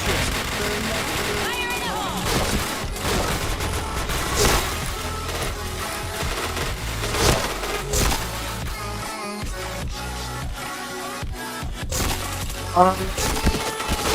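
Gunfire in the online shooter Point Blank crackles through a dense, busy game mix, with shots and impacts piling together under someone talking.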